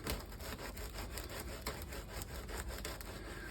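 A garlic clove is rubbed back and forth across fresh bread in a soft, rhythmic scraping, close and quiet, repeating steadily for a few seconds.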